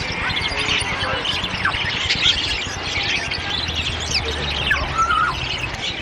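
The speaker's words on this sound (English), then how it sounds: "There are green birds, parakeets, canaries, finches, little parrots, little finches" A busy chorus of small caged parakeets, canaries and finches chirping and tweeting continuously, with some lower voices murmuring underneath.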